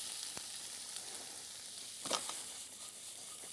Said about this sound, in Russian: И закидываю сюда все корнеплоды,